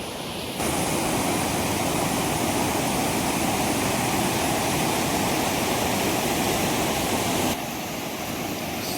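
Urulikuzhi waterfall in Mamalakandam roars in a steady, dense rush of falling water, loud and close, holding constant throughout with no voices.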